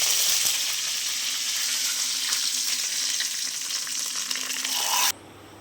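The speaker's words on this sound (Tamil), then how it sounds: "கடுகு நல்லா பொறியட்டும் கடுகு பொறிஞ்சிருக்கு கருவேப்பிலை சேர்த்து நம்ம ரசத்தில் சேர்த்துக்கலாம்" Steady, loud sizzling of mustard seeds and curry leaves frying in hot oil for rasam, a dense crackling hiss that stops abruptly near the end.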